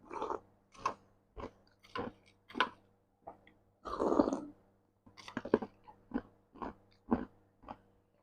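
Close-miked slurping and chewing in a studio-style ASMR setting: a steady series of wet, crunchy bites and mouth sounds, about one every half second, with a longer slurp in the middle, quiet and intimate, without talking.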